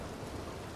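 Rain pours in the RedM roleplay game as a dense, even hiss with a low rumble beneath it, brief and steady, with no voices.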